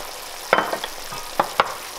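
Kabocha squash stir-frying in a pan with fish sauce, soy sauce, brown sugar and salt, a few quick spatula scrapes and clanks over a soft sizzle, close and brief, without talking.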